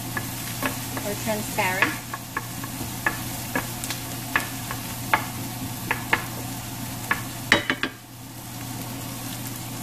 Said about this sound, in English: So just cook it until your onion is translucent